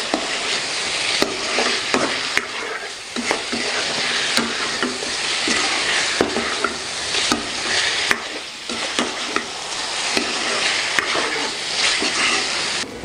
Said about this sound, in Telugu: గరం మసాలాలో బాగా వేగిందండి.